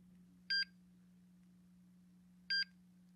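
An MSA Altair 4X portable gas detector gives two short, sharp electronic alarm-test beeps about two seconds apart over a steady low hum, with no talking.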